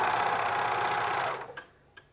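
Serger running fast along the waistband of a pair of joggers, a loud continuous buzzing whir for over a second, then stopping with a couple of small clicks.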